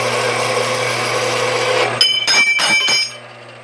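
A Harbor Freight metal-cutting band saw cuts through metal with a loud, steady whine that stops after two seconds, followed by a few short rattling clatters before it goes quiet.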